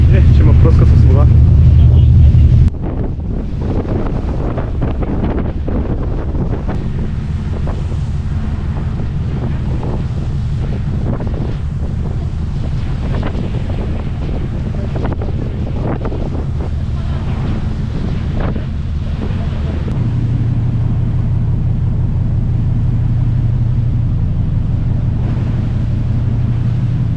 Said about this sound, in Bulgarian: Егейско море, има доста вълни. Този кораб се клате доста яко.